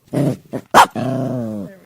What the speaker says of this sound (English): and Tiana, did she growl or woof?